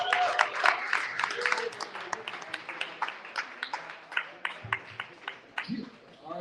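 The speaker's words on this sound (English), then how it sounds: "One more time. Round of applause." Applause from the audience after a crypto fireside chat, a modest crowd clapping unevenly for a few seconds, with some chatter and cheering mixed in and trailing off.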